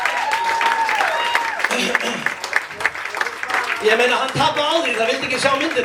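Audience applause for a man being thanked at a comedy roast, a steady wash of clapping running under a speaker who keeps talking over it, with a few chuckles in the crowd.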